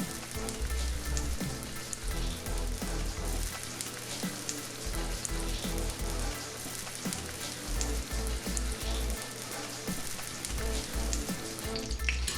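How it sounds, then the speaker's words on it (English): Breadcrumb-crusted tilapia fillets frying in a skillet of hot oil, giving a steady, dense, close crackling sizzle that lasts throughout, heard alone without talking. "And then we can just go and get into our skillet, y'all. Fry. Time to fry them up."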